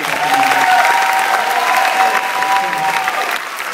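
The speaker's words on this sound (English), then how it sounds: "Give them a round of applause." An audience at a school graduation hypnotist show applauds loudly and steadily for nearly four seconds, dense clapping that thins slightly at the end, with a few faint voices mixed into the crowd.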